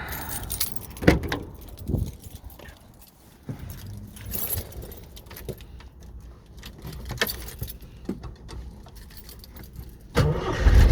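Keys jangle and a Jeep CJ7 engine cranks and starts on a cold morning, sounding close with rough mechanical rumble and clattering between quieter stretches, ending louder.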